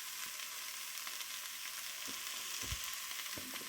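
Tomatoes fry in a pan with a faint, steady sizzle, occasionally broken by soft stirring knocks near the end.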